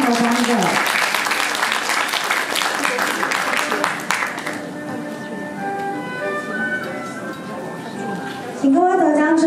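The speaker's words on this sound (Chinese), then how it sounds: "掌声恭喜以上的三个" An audience applauds award winners at a youth music competition ceremony, dense clapping for several seconds before it gives way to music and an announcer's voice over it.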